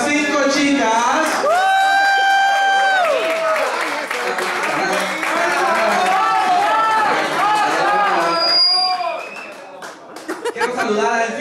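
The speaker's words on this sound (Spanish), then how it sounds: "Fuerte el aplauso para estas 5 chicas." Crowd applause with whoops and cheers from the audience at a drag queen competition show, loud and continuous under talk and music-like tones, fading near the end.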